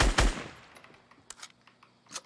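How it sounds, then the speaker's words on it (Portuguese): Gunfire in a video game: a loud close burst of shots opens, followed by scattered fainter and more distant shots and impacts, with no talk over it. "o cara tá te atirando"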